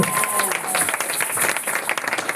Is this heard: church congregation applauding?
yes